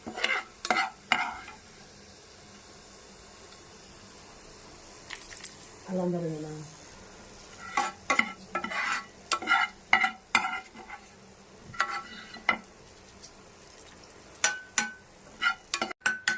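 Cumin and coriander seeds dry-roasting in a pan, heard as a faint sizzle beneath repeated scraping and stirring strokes of a spoon, with brief speech in the middle.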